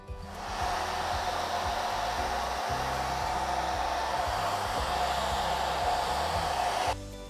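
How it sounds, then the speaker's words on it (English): A hair dryer blows steadily at close range over wet paint, a continuous loud whooshing hum with a low motor drone, starting abruptly and cutting off near the end. "But I'm going to use the hairdryer."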